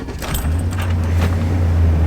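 A 2004 truck's 5.3-liter Vortec V8 cranks briefly and catches, then settles into a loud, steady low idle with a faint jingle of keys at the start.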